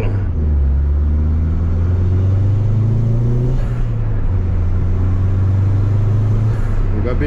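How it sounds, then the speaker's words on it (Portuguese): Turbocharged car engines, a tuned Hyundai HB20 TGDI and a modified Citroën DS3 1.6 turbo, rev loudly and close by in a steady deep drone that rises slightly around the middle, with voices faintly underneath. "Vamos lá, por mais um acelero."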